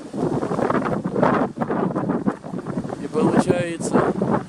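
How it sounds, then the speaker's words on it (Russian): Very strong wind buffets the microphone in loud, gusting roars that rise and fall, with someone speaking briefly beneath the gusts. "Очень сильный ветер."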